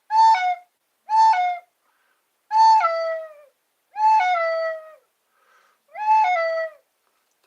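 A recorder imitates a dove cooing in five separate breathy, wavering notes, each dropping in pitch at its end, loud and close with pauses between and no talk.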